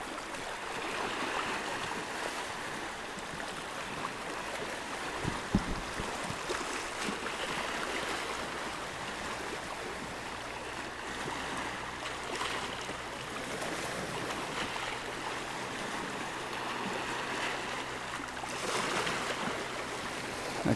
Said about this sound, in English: here comes the second boat now